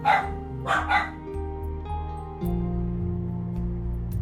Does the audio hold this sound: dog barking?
yes